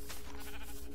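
Sheep bleating in the modded Minecraft FTB game world, a steady, fairly close bleat running through the whole second with no voices over it.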